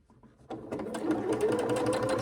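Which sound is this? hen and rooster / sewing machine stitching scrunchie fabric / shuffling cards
sewing machine stitching scrunchie fabric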